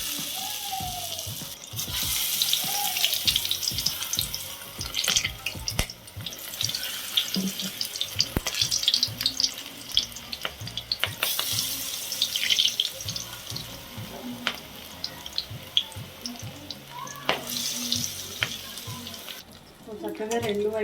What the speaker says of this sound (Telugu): ఇప్పుడు మనం దీన్ని పిండిలో మంచిగా ఇలా ముంచేసుకొని ఇంకా ఆయిల్లో అయితే వేసేసుకుందాము